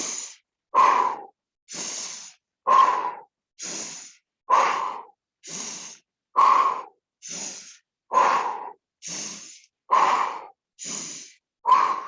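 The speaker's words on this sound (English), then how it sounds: "we're going to add a pumping breath. So huff and puff, really deep diaphragmatic breathing" Deep diaphragmatic pumping breaths, huffing and puffing in a steady rhythm of about a dozen strong exhale-inhale bursts, close and loud, with no talk.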